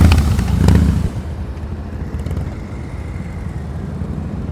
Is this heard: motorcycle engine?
yes